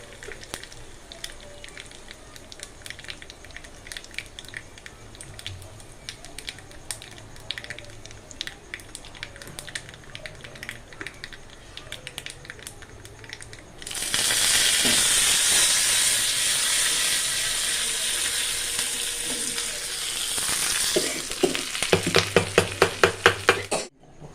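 Urad dal, cumin and a dried red chili sizzle in hot oil for a South Indian tempering: a quiet crackle first, then a sudden loud burst of steady hissing frying that swells and ends with sharp spattering pops.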